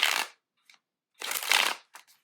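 A deck of cards is shuffled in two quick riffle bursts separated by a short silence, with a faint tap in between and a few soft clicks as the cards settle at the end.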